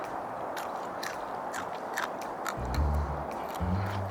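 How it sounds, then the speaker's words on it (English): Fresh raw hop shoots are bitten and chewed up close, giving a run of crisp, crunchy snaps and wet chewing sounds. "Chew down until it's not just easy to bite off."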